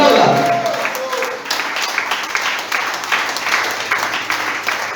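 A church congregation applauds during a service, producing a continuous patter of clapping at moderate loudness while a voice speaks over it.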